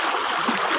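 Mountain stream water flowing steadily, a continuous broadband rush with no gaps, close and fairly loud throughout, no voices present.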